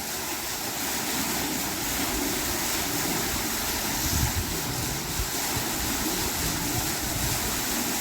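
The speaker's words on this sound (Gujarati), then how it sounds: "જો પાણીની આવક જોરદાર છે" Irrigation water gushing strongly into a farm field, a continuous loud rushing roar with wind buffeting the microphone, steady for the whole stretch.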